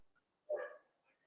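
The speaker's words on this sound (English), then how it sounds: "Whoever's dog that is, that's wonderful." A single short dog bark or yip, fairly faint and distant, sounding once in an otherwise quiet room with no talk.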